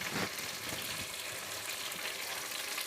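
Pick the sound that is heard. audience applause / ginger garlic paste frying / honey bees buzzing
ginger garlic paste frying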